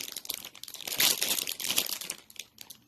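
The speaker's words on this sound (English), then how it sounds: "Sorry for the crinkling." Candy packaging crinkles and crackles close up in a few quick bursts, loud in the middle and trailing off, with no talking.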